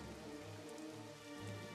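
Steady rain falls in the WWII strategy game Strategic Mind Blitzkrieg, a faint, continuous patter with a low rumbling bed and no voices.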